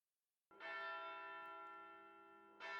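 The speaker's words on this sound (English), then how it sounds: "Tintagel's Bell of Pilgrimage, which I've been hearing constantly for 16 years, rings in the distance." Tintagel's Bell of Pilgrimage from the video game Fate/Grand Order rings out with a single clear, sustained tolling strike that slowly decays, followed by the onset of a second strike.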